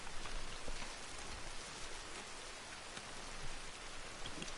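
Rain pouring in the video game Red Dead Redemption 2 Online, a constant dense hiss of drops on surfaces, close and steady with small pattering accents, heard alone without talk.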